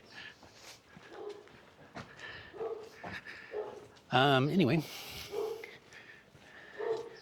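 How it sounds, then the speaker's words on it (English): On a cobblestone street in Chapala, Mexico, a nearby dog gives a sharp whining bark midway, with other faint yips around it and a person talking throughout. "And there's dogs everywhere."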